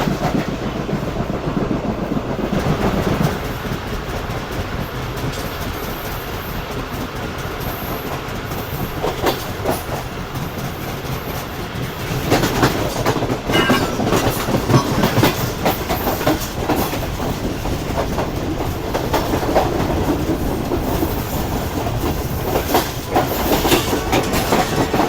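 The Karakoram Express runs on its tracks in winter with a continuous rumble and rhythmic clickety-clack of wheels over rail joints, heard steadily throughout at close range.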